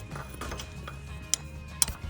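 A box wrench works a lock nut on a Kubota tractor, giving faint ratcheting clicks and low metallic scraping, with two sharp metal clinks standing out near the end.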